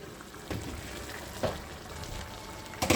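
Potatoes and carrots simmering in a pot for massaman curry, giving a steady soft bubbling sizzle with a few brief louder stirs or pops, close and alone without talk.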